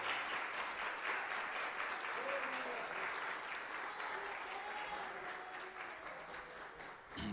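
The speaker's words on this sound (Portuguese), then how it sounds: "Uma linda salva de palmas para Jesus." Church congregation applauding together at an evening service, a steady dense wash of clapping with a few raised voices mixed in, tapering slightly toward the end.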